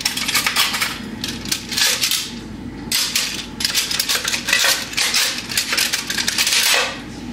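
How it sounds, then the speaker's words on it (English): Cutlery clatters and jingles in bursts as a spoon is picked out from among other utensils, the metallic scraping and clinking loud and close, with short pauses between the rummaging. "grab a spoon here"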